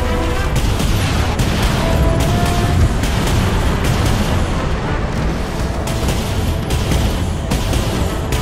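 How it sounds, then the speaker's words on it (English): Dense, steady rumble of heavy booms and blasts from a naval combat battle in the game Dreadnought as a torpedo launches, loud and continuous with repeated bursts across the whole stretch. "Torpedo launched."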